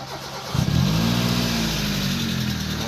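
A car engine idles, then revs up and holds a steady, loud throaty rumble close by.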